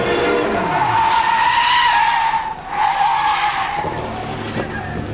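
A Renault, either an 8 Gordini or a 5 Turbo, skids through a full 360-degree spin on the wide Le Castellet circuit, its tyres squealing loudly and continuously for about five seconds over engine noise, with no talk.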